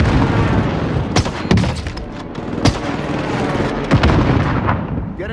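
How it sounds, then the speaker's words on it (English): A barrage of allied precision airstrike explosions in a battle-royale video game, with repeated sharp blasts and booms over a constant roar of gunfire and rumble. "Allied precision airstrike incoming"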